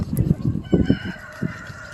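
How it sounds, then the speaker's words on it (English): Farm chickens cluck and squawk in a short series of close, irregular calls, with a bird-like honk mixed in, heard alone without talk. "we'll go say hi to all the bunnies and the chickens and ducks and rabbits and Sylvia, our pig"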